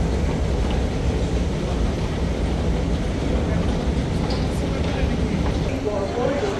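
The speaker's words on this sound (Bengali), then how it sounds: "5 মিনিট অন্তর অন্তর ট্রেন চলে আসে।" Doha Metro Red Line train heard as a steady, loud broadband rumble and rush that runs without a break, with faint muffled voices in the background.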